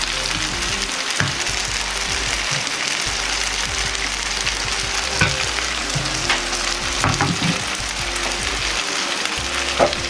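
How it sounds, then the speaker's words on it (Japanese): Wing-style yakisoba noodles pan-frying in a Japanese home kitchen give a steady, close sizzle and crackle throughout, with occasional stirring or scraping clatter and no talking. "まだ水分があるところは火に近づけて焼きます。"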